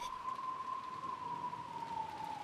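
Steady rain falling in a video game, a constant soft hiss of drops with a faint sustained tone running underneath, unbroken and without any voices.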